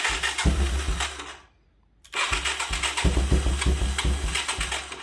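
A 1985 Yamaha YTM225DR three-wheeler engine cranks and sputters in loud, uneven bursts, cuts out briefly to near silence, then catches again with a rough, pulsing mid-pitched rumble that never settles into a steady idle.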